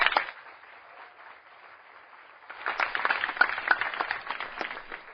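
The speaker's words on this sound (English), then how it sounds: "If you'll applaud that, you'll applaud anything." Audience applause at a student debate on cannabis legalization, a light scattering of claps that swells into fuller, denser clapping halfway through, heard somewhat muffled.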